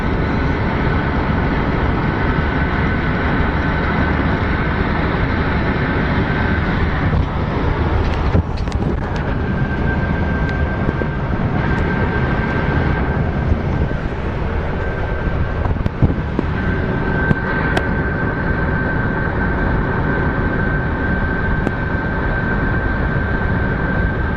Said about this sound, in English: The car sounds like a jet because we're on a concrete highway now.